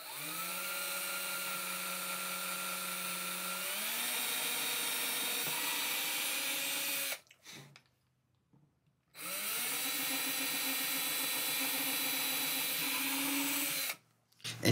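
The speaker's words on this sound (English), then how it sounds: "I'm going to use a very small bit to drill pilot holes there very carefully." A small bit drills pilot holes into the wooden body of a 1950 Silvertone Econo-Archtop guitar, a steady high-pitched whine whose pitch shifts partway through, broken by a short pause before resuming close and loud.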